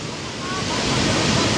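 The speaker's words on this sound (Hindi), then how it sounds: "ये है तस्वीरें कि गोड्डा की कझिया नदी की स्थिति हम आपको दिखा रहे हैं कि कितने दिनों बाद ये बाढ़ जो है कि देखने को मिल रहा है जिलावासियों को" Floodwater of the swollen Kajhiya river in Godda roars in a steady, broad rush, close and loud, with a continuous churning surge and no pauses.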